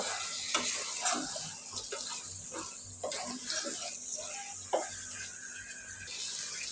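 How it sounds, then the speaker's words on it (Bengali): Chicken pieces with spices stirred in a pan, a soft sizzle under intermittent scraping and knocks of a spoon, fairly quiet with some background hum. "এখন মাংসটা দেওয়ার পরে আমি ভালোভাবে নেড়ে মশলাটা মিশিয়ে নেব"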